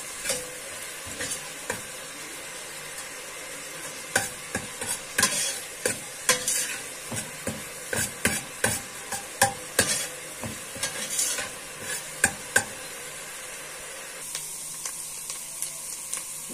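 Meat stir-frying in ghee for an okra-and-meat tagine, a steady close sizzle broken by frequent sharp scrapes and clinks of a spoon stirring against the pot, settling to a softer hiss near the end.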